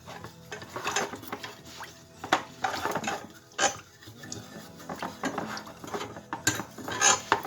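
A whisk beats a mixture in a bowl, an irregular rapid clatter of metal against the bowl with sharp taps and scrapes, close and fairly soft, no talking.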